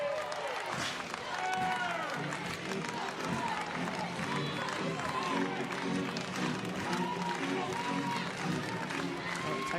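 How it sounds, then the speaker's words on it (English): Texas fans at a college softball game against Penn State stand and clap rhythmically with two strikes and two outs, a broad crowd patter with cheering heard under continuous commentary from a broadcaster. "Texas faithful on their feet clapping with the 2-strike count, 2 outs"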